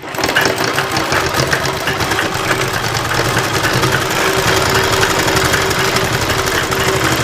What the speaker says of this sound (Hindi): इसी तरीके से सिलाई को आगे पीछे करके चलाएँगे